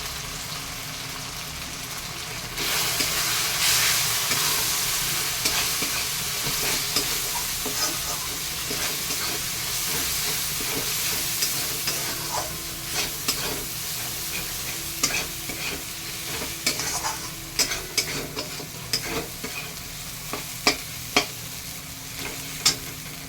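Ground cumin, coriander, chili, Kashmiri chili and turmeric fry in a pan with a continuous soft sizzle, while a spoon scrapes and stirs in irregular clacks that grow sharper toward the end, close and with no speech.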